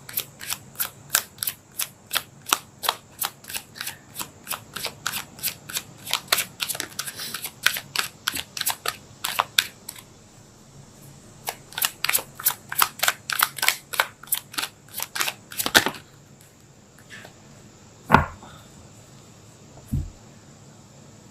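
Tarot cards being shuffled close up, a rapid run of crisp, evenly spaced riffling snaps in bursts, then a pause and a few isolated slaps as cards are pulled and laid down, without anyone speaking.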